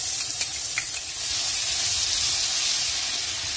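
Cumin seeds and ginger-garlic paste frying in about three tablespoons of hot oil for an egg curry, a loud steady sizzle and hiss close by with a few brief crackles.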